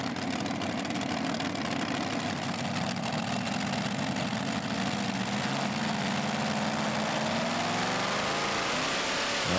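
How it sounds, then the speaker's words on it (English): Tractor-pulling vehicle powered by two supercharged V8 engines mounted back-to-back roars loud and steady throughout, a dense sustained engine drone with rising pitch toward the end, heard alone without talk. "Again, two supercharged V8 motors, but a different configuration, this time back-to-back, which Mark feels gives better airflow."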